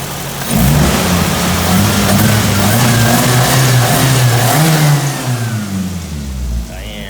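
A modified car with coilovers, extractors and engine work revs hard and steadily up close, a loud throaty roar holding for several seconds before easing off near the end.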